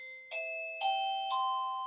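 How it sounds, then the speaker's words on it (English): A battery-operated indoor doorbell plays a clean electronic chime of three rising tones, each struck about half a second apart and left ringing, heard alone in a quiet room. "This is just a regular old battery operated doorbell. The part that is making the sound is plugged in down here"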